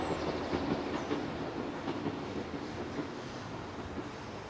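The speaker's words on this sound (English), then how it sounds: "where the train went past just before it disappeared" A train running along a live railway line in Huddersfield, heard as a steady broadband rumble with faint rhythmic clatter from the rails, holding level throughout without any voices.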